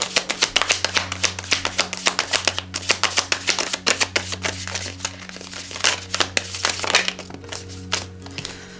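Tarot cards being shuffled close by in a rapid run of crisp slaps and flicks, steady and rhythmic throughout, over a faint electrical hum.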